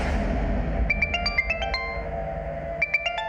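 A mobile phone ringtone chimes in a tense domestic drama scene, a repeating bright electronic melody that plays in two short bursts over a low background hum, with no talking.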